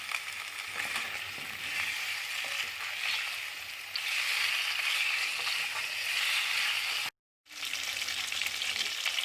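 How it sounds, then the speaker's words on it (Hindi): Tender mutton for a Shinwari karahi fries in half a cup of oil, a loud, continuous close sizzle with stirring that breaks off for a brief moment of silence before resuming. "मटन गल चुका है, आधा कप तेल डाल के मैं इसको तकरीबन 3 मिनट भूनूंगी।"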